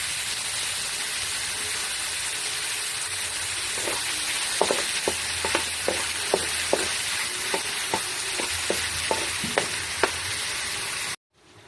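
Hotdog pieces fry in a pan with onion and garlic. A loud, constant sizzle runs throughout, with a series of sharp, regular taps from stirring in the middle, and it cuts off abruptly at the end.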